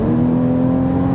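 A Porsche Cayman fitted with a sports exhaust drones steadily up close, a constant engine note holding without breaks for the whole second.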